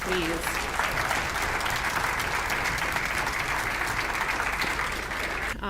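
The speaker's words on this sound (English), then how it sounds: "join me and give them a round of applause" Steady, dense applause fills a conference hall at a turkey industry summer gathering, a loud continuous wash of clapping from a large audience, with a brief spoken word near the start.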